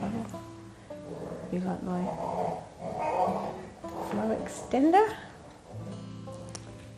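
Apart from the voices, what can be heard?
dogs playing and growling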